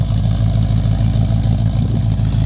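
A 1971 Plymouth Roadrunner with a 383 four-barrel V8 idles steadily nearby, a low, even rumble with a regular pulsing beat throughout, no talking over it.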